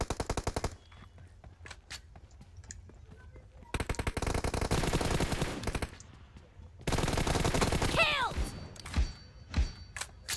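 Rapid automatic gunfire from a PUBG Mobile team deathmatch, loud sustained bursts alternating with quieter gaps and some thuds, without talk.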